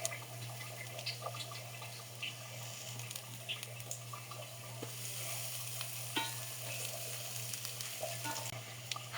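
A quarter cup of chopped onion sizzles in hot oil, a soft continuous crackle with scattered pops and stirring clicks over a low steady hum.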